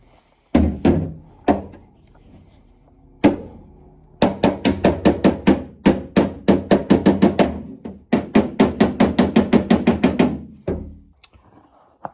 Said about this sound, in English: I'll tap that down with the hammer